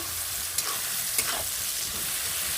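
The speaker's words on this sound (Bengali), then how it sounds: "এটাও একসঙ্গে ভাজা হয়ে যাবে" Cleaned shrimp and browned onion fry together in a pan with a soft, steady sizzle, marked by two brief scrapes of stirring.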